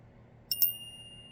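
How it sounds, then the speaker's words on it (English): A small bell rings twice in quick succession, bright and close, leaving a clear lingering tone over a quiet low hum. "this a bell wants to ring"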